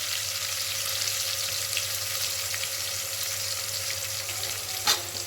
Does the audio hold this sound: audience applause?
no